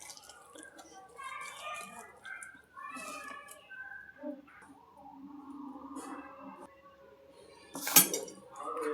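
A spoon stirs rava idli bonda batter mixed with hot oil in a bowl, with scraping and clinking against the dish under a voice talking, ending with a sharper clink.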